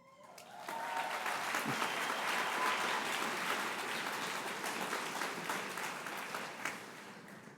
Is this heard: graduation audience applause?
yes